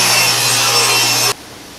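Table saw ripping a wood strip with the jointed edge against the fence, a loud, steady whining cut lasting over a second that stops abruptly, followed by quiet.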